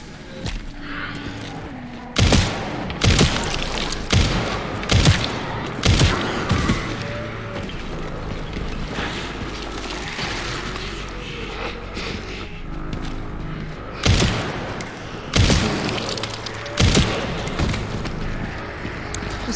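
Gunfire in the Resident Evil Requiem video game sounds as several loud, sharp shots spaced a few seconds apart over a low game ambience, mostly in single bursts, with no talk between them.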